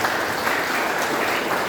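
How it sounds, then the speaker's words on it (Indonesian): A church congregation gives sustained, even applause at a Sunday service, a dense wash of many hands clapping together with no break. "Mari kita sekali lagi tepuk tangan untuk kemuliaan nama Tuhan."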